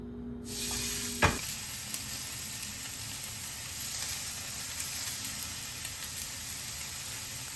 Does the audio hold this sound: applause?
no